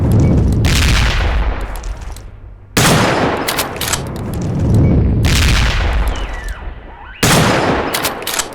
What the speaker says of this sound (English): It is not firing bullets. It's firing panzers.